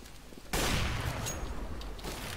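Burst of gunfire in Counter-Strike: Global Offensive, a sudden loud volley of rapid shots that keeps rattling for about two seconds without pause, with faint background game noise before it.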